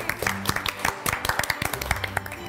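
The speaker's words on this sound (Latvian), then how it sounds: "Anģelīna, Anģelīna, aplausi!" A studio audience on a Latvian game show claps for Anģelīna, with brisk, uneven hand claps from a small crowd that fill the whole stretch alongside some background voices.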